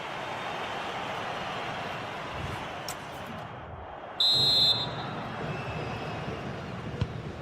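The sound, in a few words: referee's whistle blown for half-time in a football match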